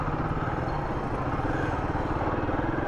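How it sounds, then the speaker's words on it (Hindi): A Royal Enfield Guerrilla 450, a 450 cc motorcycle, being ridden, its engine a steady close rumble with a dense, even drone throughout and no pauses. "450 सीसी बाइक चला रहा हूँ।"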